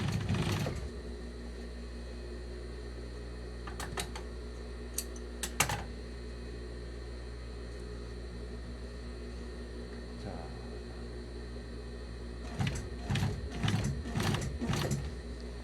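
Sewing machine stitching a jeans hem: a few short bursts of rapid mechanical clatter separated by quiet stretches, then a quicker run of stitching toward the end over a steady low hum.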